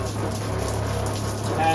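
Water sprays steadily from a recirculating off-grid shower fed by a pump, a dense hiss like rainfall, close and continuous with a low pump hum underneath.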